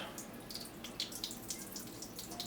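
Water drains from a bowl, trickling and splashing, with small drips and gurgles over a steady wash of running water, fairly quiet and close.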